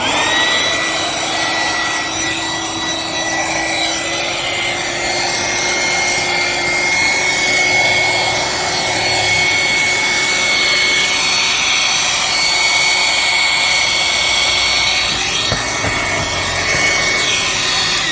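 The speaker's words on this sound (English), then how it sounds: "you connect the largest nozzle and then switch on that one. The mattress will be completely deflated." An electric pump with its largest nozzle fitted drones steadily as it deflates an inflatable car mattress, a loud, close, continuous whirring hum that barely changes for the whole stretch.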